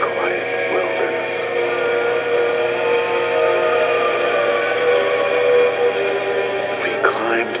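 A train thunders through quiet wilderness, a continuous dense rumble with sustained tonal whistle-like hums under a narrating voice.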